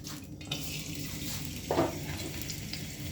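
Raw potatoes slide into hot oil for the first of a double fry, setting off a steady, close hiss of frying with a brief louder burst of bubbling partway through.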